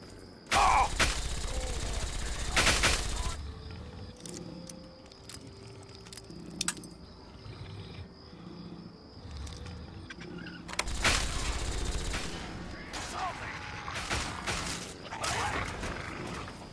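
Missile launcher fired in Fallout 3, a loud launch burst near the start followed by a long rumbling tail and scattered mechanical clicks, with a second heavy blast later on.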